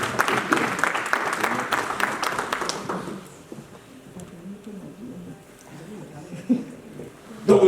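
A church conference audience in Antwerp breaks into applause and acclamation, a dense burst of clapping for about three seconds that fades into murmuring and talk.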